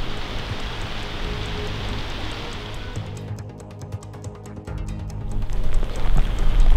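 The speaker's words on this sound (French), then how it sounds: "Regardez, écoutez la pluie." Steady rain pattering on surfaces at an abandoned military base, a dense hiss of drops with louder nearby splashes building toward the end.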